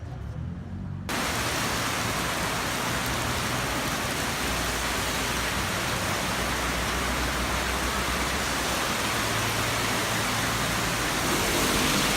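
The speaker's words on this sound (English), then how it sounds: "The most epic fucking rainstorm." Heavy nighttime rainstorm in Davao City with flooded roads, a dense, steady roar of rain that stays loud and unbroken throughout after a brief quieter moment at the start.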